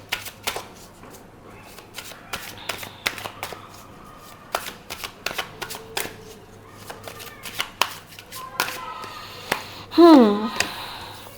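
Tarot cards being shuffled and drawn at close range, a run of crisp riffling bursts and soft flicks that build to a louder slap near the end, with a speaking voice faintly in the background.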